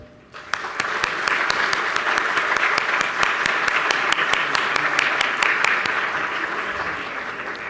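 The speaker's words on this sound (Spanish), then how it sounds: "para quienes pido nuevamente un fuerte aplauso" Loud audience applause at a formal event on the legal and forensic analysis of femicide, many hands clapping steadily at close range with distinct sharp claps standing out over the continuous wash.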